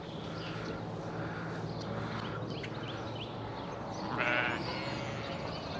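Sheep bleating on a ranch, a few faint distant calls over steady background noise, with one slightly louder bleat near the end.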